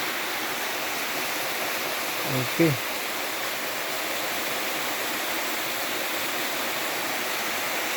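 A waterfall that empties toward the sea roars as a steady, loud broadband rush throughout, with one short spoken word partway through.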